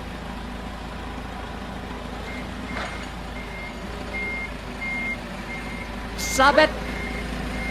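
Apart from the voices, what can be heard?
forklift reversing beeps in a video game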